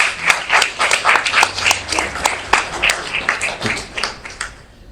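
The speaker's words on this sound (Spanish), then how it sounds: "Un fuerte aplauso para Luis Alberto." A crowd applauds a speaker at a cultural talk on Afro-Peruvian heritage, with dense, moderately loud clapping that holds steady for several seconds and then tapers off toward the end.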